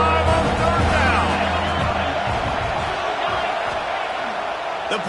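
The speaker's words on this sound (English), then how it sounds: "The Buckeye crowd alive on 3rd down." A stadium crowd cheering in the college football game NCAA 26, Ohio State versus Penn State, on a third down, a loud roar that swells at first and then slowly fades beneath a play-by-play commentator's voice.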